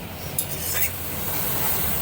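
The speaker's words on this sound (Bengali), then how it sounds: "আর মশলাটা ভালোভাবে কষিয়ে নিচ্ছি" A spice paste of tomato, cumin and ginger is stir-fried in a pan, giving a steady, close sizzle with soft scraping from stirring all the way through.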